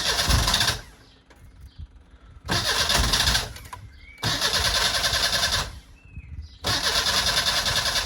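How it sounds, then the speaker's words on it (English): Starter motor cranking a track-day tuned car engine that won't fire, in three loud sustained bursts separated by quieter pauses, close up with no catch. "as you can see, at the moment, it's refusing to start"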